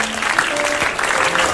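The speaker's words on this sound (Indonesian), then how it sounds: "Iya, tepuk tangan dong." A studio audience at an Indonesian television comedy talk show claps briefly, a dense burst of many hands with faint voices underneath.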